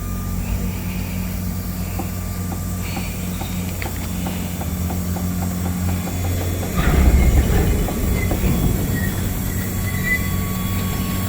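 A freight train with a mid-train locomotive unit eases into motion beside a siding, with a steady low engine rumble, rhythmic clanking of cars and a surge of heavier rolling noise partway through.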